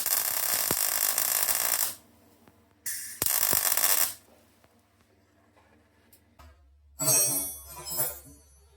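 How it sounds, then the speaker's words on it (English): MIG welding a nut onto the seized bolt head of a Freelander 2 PTU repair: two loud, steady crackling bursts of arc hiss, each about a second or two long, separated by quiet gaps, then clanking workshop noise near the end. "I'm just going to put a nut on the top, weld it on"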